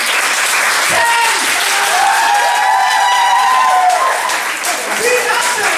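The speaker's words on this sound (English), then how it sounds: "Let's all clap in the level of 2" A large group in a lively crowd setting claps loudly and steadily, dense applause swelling in intensity, with voices mixed into the noise.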